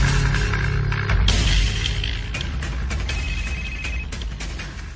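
A mobile phone rings with a repeating electronic tone, fairly loud and close, over a constant low hum and faint background noise.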